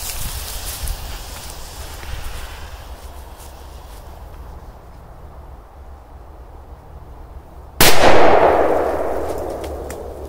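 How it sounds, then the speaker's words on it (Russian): A Corsar 8 firecracker bursts once with a sudden, loud bang outdoors, its sharp report fading into a long noisy decay after several seconds of quiet outdoor ambience. "Во, посмотрим взрыв."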